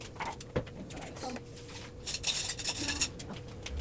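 A bowl of birthday food for a dog being mixed by hand, with utensil scrapes and clinks against the bowl coming in irregular bursts, louder toward the end, close up.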